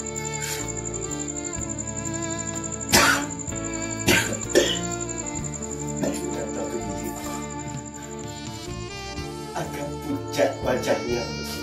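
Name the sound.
coughing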